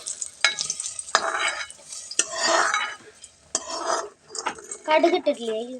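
A spoon scrapes and clinks around a pot of sambar in short bursts as fried okra is stirred in, with some sizzling and brief voice sounds between the stirs.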